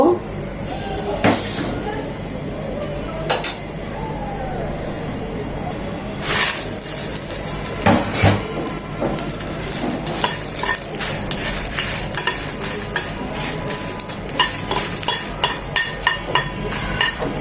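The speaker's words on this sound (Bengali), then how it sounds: "এখানে সামান্য একটু তেল দিয়ে আমরা কয়েকটা মরিচ" A few chillies are frying in just a little oil for hilsa bharta, making a moderate sizzle and hiss broken by sharp stirring clicks and scrapes against the pan.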